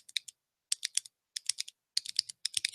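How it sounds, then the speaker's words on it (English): Computer keyboard keys clatter in short repeated bursts of four or five quick taps with brief pauses between, crisp and close, with no talking. "I have one coworker who does something repetitively where you hear the same pattern of keys, like,"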